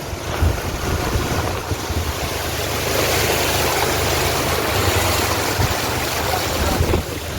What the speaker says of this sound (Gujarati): પાણી કેટલું બધું ઉડે